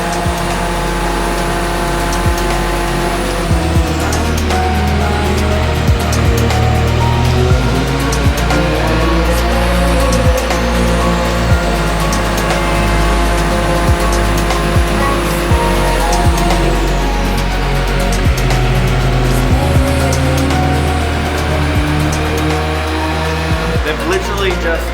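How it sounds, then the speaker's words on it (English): A built, turbocharged Toyota Supra 2JZ engine with a G35 1050 Pulsar turbo roars continuously at high revs on a dyno, its pitch climbing and falling through sweeps as it is loaded up, loud and close. "We're going to run in this engine now."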